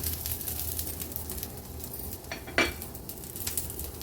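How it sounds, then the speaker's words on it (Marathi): Sesame seeds roasting in a hot pan with the gas flame just switched off, a soft steady sizzle with a few sharp metallic clinks of a spoon stirring near the end. "थोडंसं हे परतून घेते आणि लगेचच गॅसची फ्लेम स्विच ऑफ करते. पॅन गरम असल्यामुळे हे बघा तीळ पण व्यवस्थित भाजले जातील."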